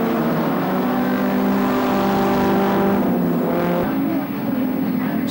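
1950s sports cars, including a Jowett Jupiter, racing past on a circuit, loud engine roar sweeping by close with rising and falling pitch, a second car following before the sound cuts to a quieter passing note.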